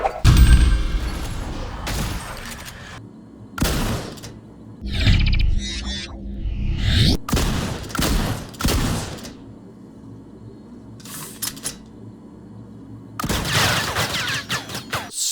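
Automatic shotgun in the first-person shooter Strafe, a toy-like weapon firing at a moderate automatic rate: several loud, separated blasts and bursts with gaps of quieter game ambience between them, heard alone with no talking.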